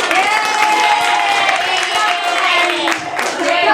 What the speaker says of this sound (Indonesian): Ya tepuk tangan buat temannya.